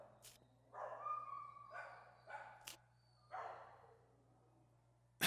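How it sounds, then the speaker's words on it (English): Pit bull puppies at an adoption center give a series of short yips and barks, spaced irregularly and moderately close, with quiet pauses between them. "Well, Abby, these little pit bull puppies have had a rough life"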